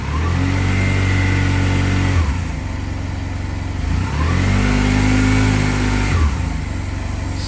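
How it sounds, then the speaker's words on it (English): A Honda SilverWing 600 scooter with its CVT belt freshly fitted, held on the brake while revved, the engine surging up, dropping back and rising again in loud, near drones with a fluttering undertone. "it's normal belt flutter that I hear"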